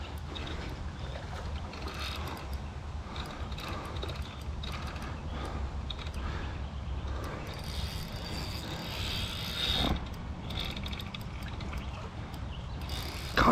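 A fishing reel's drag and anti-reverse work while a carp is fought in high water, with a faint ratcheting whir under steady outdoor wind and water noise.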